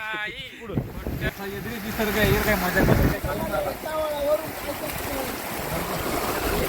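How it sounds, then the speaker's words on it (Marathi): Footsteps wading through shallow water on a foggy Sahyadri hill trek, with sloshing and splashing under steady outdoor wind noise while people talk over it throughout. "हे बघा आता आम्ही पाण्यातून चाललेलो आहे"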